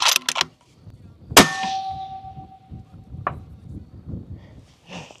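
A rifle shot at a steel plate rack target 500 yards away is followed by a sharp metallic clang that rings for about a second, then a second fainter ding, with indistinct background noise between them.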